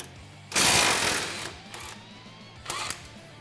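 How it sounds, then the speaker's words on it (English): Ratchet clicking as it works loose a shock absorber nut on a Polaris RZR XP 900 differential job, a loud close burst of rapid pawl clicks followed by a shorter second burst. "Then we're gonna go through and remove the nut from our shock"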